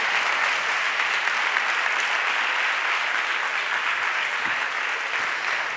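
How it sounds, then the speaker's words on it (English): Sustained, dense audience applause at a science lecture on aging at Princeton University, steady and full throughout without pause, close and loud. "An applause,"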